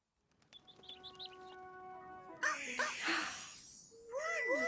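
Cartoon bird chirps in a Numberblocks children's song, a run of short high tweets over sustained musical tones, followed by louder warbling calls and bright song melody.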